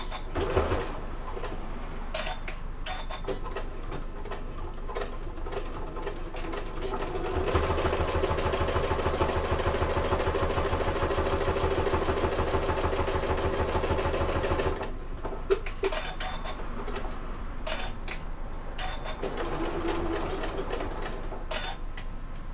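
Sewing machine stitching an adventure bag, running in a steady mechanical burst of several seconds between shorter stops and starts, with light handling noise around it and no talk.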